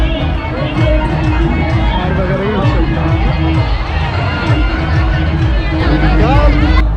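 Dense, loud hubbub of a large crowd at a Bhim Jayanti celebration in Nashik, with overlapping voices and street noise running steadily without a break.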